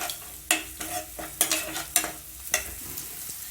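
Red capsicum sautés in a pan for spicy cauliflower manchurian, a soft frying sizzle broken by about six sharp spatula scrapes and knocks at a steady pace, close up with no talk.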